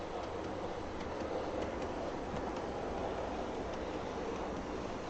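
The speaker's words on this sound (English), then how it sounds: "We're gonna run it around the track and have it come push these train cars out of the way." A train pushes rail cars along the track in Farming Simulator 22, giving a steady rumbling roll with faint rhythmic wheel clicks, continuous and without talking.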